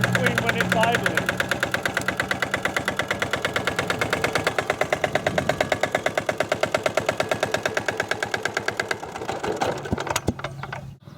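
A Lombardini diesel engine repowering a Troy-Bilt Horse II rototiller idles close by, with a rapid, steady knocking chug that keeps a regular rhythm before cutting out near the end.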